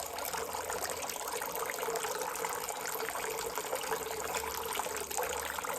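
Water drains steadily out of a hydroponic container used for LECA growing, a continuous trickling and gushing splash close by that holds at an even level throughout.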